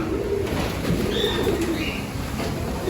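Young racing pigeons in loft cages coo continuously at close range, with soft throaty calls layered over one another and a few brief higher chirps.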